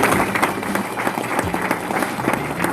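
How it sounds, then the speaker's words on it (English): A room of people at a company business meeting breaks into applause, with distinct individual claps standing out in a lively, close crowd burst that continues through the whole moment. "I think that deserves a round of applause."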